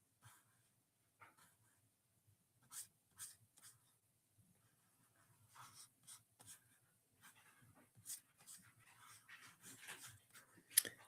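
Puppies pant and whimper faintly up close, with soft irregular breathy puffs and small whines scattered through a quiet room.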